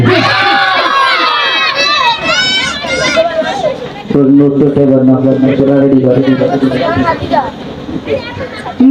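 A large crowd at a live Bangla Islamic gojol gathering chants Nara-e-Takbir loudly in unison, with voices rising in repeated surging shouts and call-and-response bursts that stay close and full throughout.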